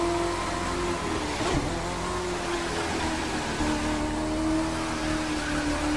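Engine of a Lamborghini Huracan racing in The Crew 2, a loud, sustained drone with rising and falling pitch as it revs, other race noise mixed under it.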